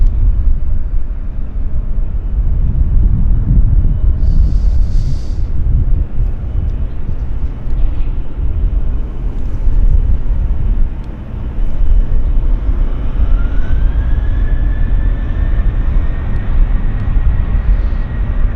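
A WestJet Boeing 737-800 lining up on the runway for takeoff to Toronto, a loud, steady low engine rumble heard from the airport, with a rising whine building toward the end.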